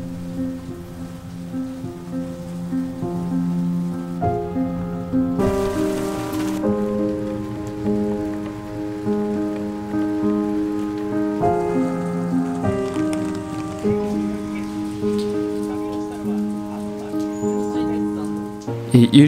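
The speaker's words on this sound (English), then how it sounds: "The annual Japanese rainy season is here." Steady rain pattering on surfaces during the Japanese rainy season, a continuous even hiss blended with sustained musical tones throughout.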